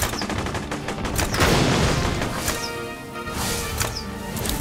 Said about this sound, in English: Something exploded there.